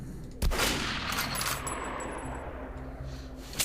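Rapid bursts of gunfire in the game Metro Last Light, a heavy burst near the start followed by continuous rattling shots at a steady loud level with no one speaking.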